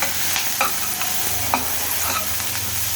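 Shallots and ginger frying in plenty of oil for a ginger-tomato chutney, making a continuous close sizzle with several light spatula scrapes and taps scattered through it, and no voices.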